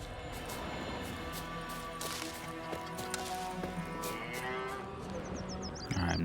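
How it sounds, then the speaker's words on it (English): Cattle low in long, drawn-out moos over steady ambient background in The Witcher 3 video game, with a sharper clatter right at the end. "Alright, I'm not gonna kill the cows again."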